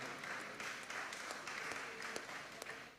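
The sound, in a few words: audience applause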